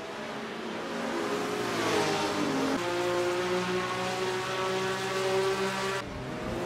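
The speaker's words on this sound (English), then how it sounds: "Harry Schell made a stellar start, charging into the first corner in the lead" Formula One racing cars of 1954 at the start of the Spanish Grand Prix, engines roaring steadily and close, with rising and shifting engine pitches from several cars at once, continuous and loud throughout.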